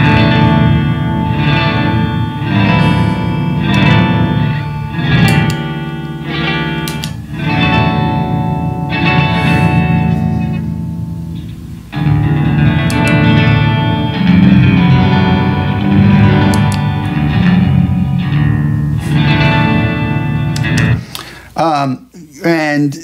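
Electric guitar chords and notes run through a Zoom MS-50G pitch-shifter preset with no filtering, shimmering with heavy reverb and chorus, loud and sustained, ending in a brief glitchy burst.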